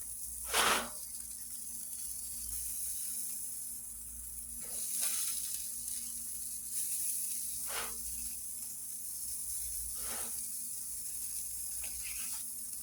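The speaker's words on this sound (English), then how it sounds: "Well, they sizzling now." Oysters grilling in a backyard: a soft, steady sizzle with a faint constant hiss, broken by several short, sharper spits and pops spaced a few seconds apart.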